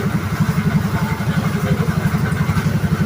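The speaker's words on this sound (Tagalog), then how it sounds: "Yung mga papasok na motor" Motorcycle engines putter close by with a rapid, even chugging rhythm, the mid-range idle throbbing steadily as the bikes arrive on a flooded road during heavy rain.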